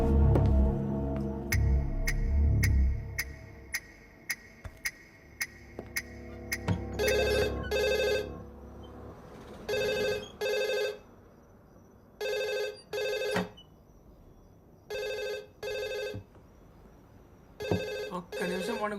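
A telephone rings loudly in repeated paired bursts with short pauses between them, following a stretch of low tonal sound at the start, in a night-time movie scene at home.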